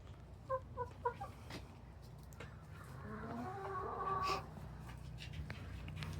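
Chickens at a backyard coop give short clucks, a few quick bursts early, then a longer stretch of louder warbling calls over steady low background hum.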